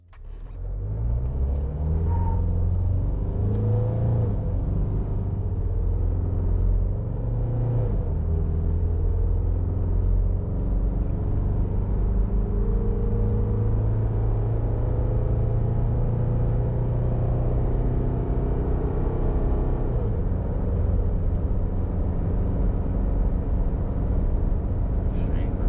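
A pickup ute towing a dyno trailer accelerates slowly for a long stretch, its engine a loud, steady drone with rising pitch through gear changes, dominating throughout with no talk.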